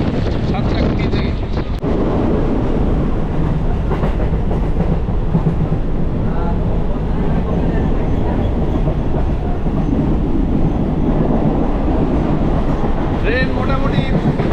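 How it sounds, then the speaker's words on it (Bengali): A train runs at speed on a special service toward Digha, with a steady, loud rumble of wheels and cars on rails and wind buffeting the microphone throughout, no voices over it. "ট্রেন মোটামুটি ভালো স্পিডেই চলছে, একদম ঠিকঠাক স্পিডে, দুরন্ত গতিতে চলছে"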